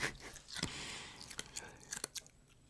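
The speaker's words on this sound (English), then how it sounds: "I'm chewing ice on a podcast." A person crunching and chewing ice close to the microphone during a podcast, with irregular crisp bites and crackles over about three seconds, with faint breathy background noise.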